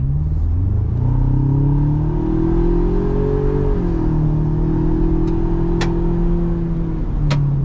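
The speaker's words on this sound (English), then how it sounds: "You can hear a little bit of that turbo spooling up also as you get on it." A close 2021 Roush Ford Ranger pickup's turbocharged 2.3-liter engine pulls hard, its steady drone rising in pitch as the truck accelerates, then settling, with a couple of sharp clicks near the end.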